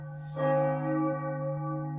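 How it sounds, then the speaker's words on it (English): Church bells ring in a belfry, a single loud struck tone with a long, humming sustain that slowly decays. "These bells may turn my brains to jello, but it sure as heck's gonna get you, pal."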